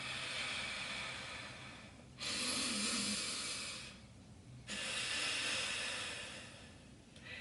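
A person exhales through one nostril in long, steady, airy breaths, with a couple of close, soft rushes of air separated by brief pauses and no talking.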